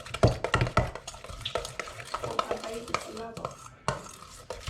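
A utensil stirs crabcake mixture with mayonnaise in a bowl, irregular scraping and sharp clinks in bursts with brief quieter gaps, close and fairly loud.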